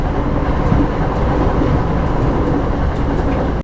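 A passenger train on a night journey rumbles steadily with a dense, continuous rolling roar and faint wheel clatter, close and even throughout, with no voices.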